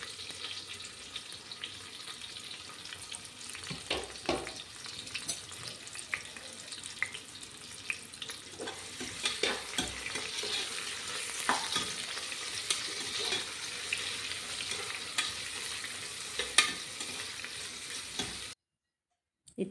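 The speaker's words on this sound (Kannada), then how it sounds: "ಯಾನ್ ಮೂಲು 4 ನೀರುಳ್ಳಿ ಕಟ್ ಮಂತೊಂದೆ ಅವೆನ್ ಪಾಡ್ದು ಫ್ರೈ ಮಲ್ಪುಗ" Chopped onions sizzle and fry steadily in a pan for chicken biryani, a continuous crackling hiss with occasional stirring scrapes, close and alone without talk.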